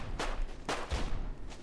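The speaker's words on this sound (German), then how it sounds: "Er hat zwei Shotgun-Schüsse." Shotgun blasts in the video game Deadside, three sharp booming shots spaced roughly half a second apart, moderately loud over a low background.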